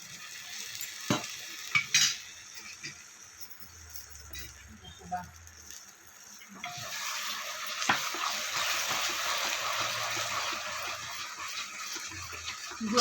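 Jaggery melting with a little water and ghee in a kadhai on a gas stove, stirred with a spoon: close scraping and clinks, then a steady bubbling sizzle swelling and holding loud, with a voice briefly in places.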